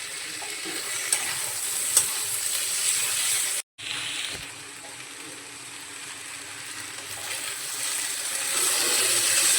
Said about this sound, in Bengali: এরপর টমেটোটা দিয়ে টমেটোর কাঁচা গন্ধটা যাওয়া পর্যন্ত ভেজে নেব